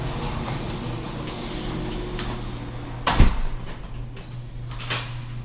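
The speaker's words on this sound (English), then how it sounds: "we'll go ahead and close that garage door" A residential garage door closes at a house during a move-out walk-through: a steady mechanical hum runs throughout, broken by one sharp thud partway through, with no talking.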